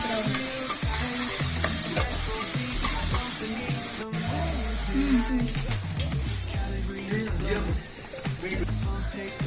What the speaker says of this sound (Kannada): ಗ್ರೀನ್ ಚಿಲ್ಲಿ ಸ್ವಲ್ಪ ಮಿಕ್ಸ್ ಮಾಡಿ ಸ್ವಲ್ಪ ಬ್ರೌನಿಶ್ ಬರಬೇಕು